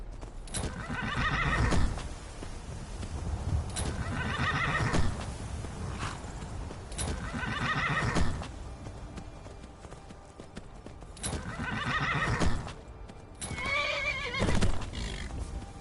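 A wild red horse in Skyrim whinnies again and again in loud, shrill bursts about every two to three seconds, over steady clip-clopping hooves and a low game rumble.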